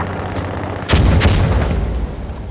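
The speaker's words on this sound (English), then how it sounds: "Throwing grenade!" A grenade blast in Insurgency: Sandstorm hits as a sudden loud, deep boom after a quieter stretch, then its rumble decays over about a second.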